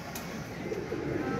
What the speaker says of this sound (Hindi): ये देख लें कबूतर, चेक करें।